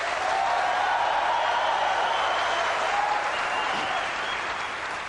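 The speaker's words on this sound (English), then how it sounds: "Second one, clap." A keynote audience at Macworld San Francisco 1999 claps steadily for the second option, a dense, even wash of applause that holds for several seconds and tapers slightly at the end.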